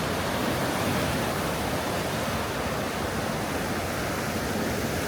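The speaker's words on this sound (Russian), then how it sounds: "какая бушующая река. Какие волны. Шум прям воды." Rushing water of an artificial river feature at a riverside market in Seoul, a dense continuous roar of churning flow and waves filling everything, loud and close with no voices.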